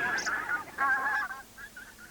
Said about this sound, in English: the ducks and geese ate all their food and chased them away